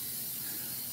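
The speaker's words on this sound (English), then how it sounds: "Okay, you really got to spray this and spray around the miller real good, okay?" Cooking spray hisses in a continuous, steady burst as it coats a cake pan, close and fairly quiet, with no talking.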